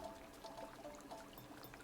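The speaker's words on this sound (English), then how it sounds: "I wanted to see if I would still be able to, like, hear this as water." Soft, steady water trickle from a bamboo slide in the Animal Crossing video game, a faint continuous flowing babble with small liquid plinks, low in level.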